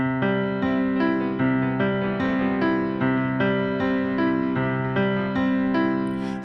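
A piano pattern is played with the rightmost sustain pedal held down. Even, repeating notes blend into a smooth, ringing wash of chords that carries on steadily with no one talking.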